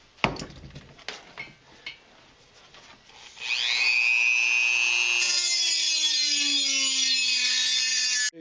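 Power tool cutting down a metal muffler bracket for a Wheel Horse 312-8 tractor repower; a few handling knocks, then a loud close whining cut that holds steady for several seconds before stopping abruptly.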